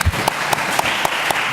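A short burst of applause, a small group clapping with a few distinct sharp claps standing out in a brisk, fairly even rhythm.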